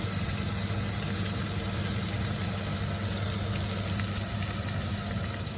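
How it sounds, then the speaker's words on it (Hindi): Soaked chana dal hits a hot pan and fries with a steady, loud sizzle that holds evenly from start to finish, with no talking. "अब इसमें मैं दाल डालूंगी चने की।"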